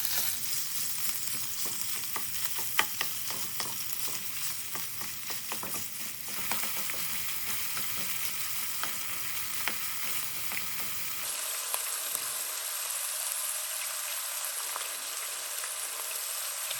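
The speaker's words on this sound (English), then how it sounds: "Turn the heat back to medium-low and add the ground beef. Break the beef into really small pieces." Ground beef fries in oil over medium-low heat in a pan while a spatula breaks it into small bits. A dense, continuous crackling sizzle with scraping runs throughout, then thins into a brighter, lighter hiss near the end. No one speaks.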